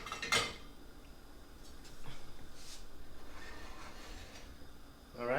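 A metal lid clatters onto a pot of rice heating on the smallest stovetop burner, a sharp close clank followed by a soft background hiss and a few light knocks.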